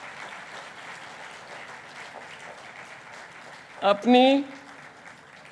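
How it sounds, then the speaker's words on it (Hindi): Audience at a devotional festival in Gurgaon claps for volunteers, a steady moderate applause that carries on under a short burst of speech near the end. "तो हो जाए तालियां इनके लिए भी।"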